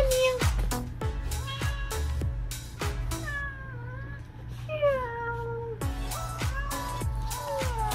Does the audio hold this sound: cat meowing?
yes